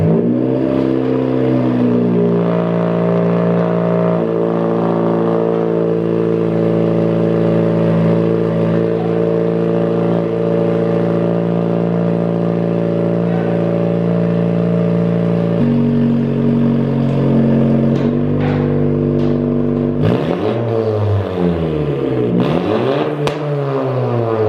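A Subaru-style car fitted with a catless downpipe and front pipe starts up and idles with a loud, steady droning exhaust, then shifts to a new idle note before several sharp revs rise and fall near the end.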